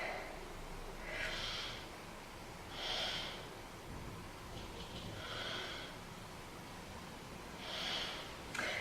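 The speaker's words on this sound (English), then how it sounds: "Take 3 breaths into your back." Slow, deep breaths taken while resting in a seated forward fold during a beginner yoga class, four soft airy inhale-exhale swells spaced a couple of seconds apart, close and quiet with no talking.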